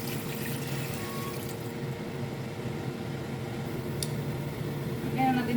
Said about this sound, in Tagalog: lagyan na natin ng tubig ng Maynila